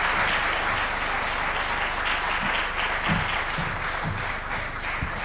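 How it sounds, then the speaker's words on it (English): Audience applause at the Africa Forward Summit, a dense, steady wash of many hands clapping that carries through the whole stretch without talk. "A warm, big round of applause for His Excellency."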